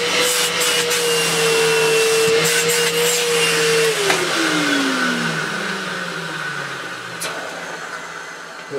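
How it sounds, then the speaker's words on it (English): A refurbished Hoover Purepower U3456 upright vacuum cleaner runs with a loud, steady whine that holds its pitch, then drops in tone partway through as the load changes, continuing alone throughout. "Do some vacuuming now."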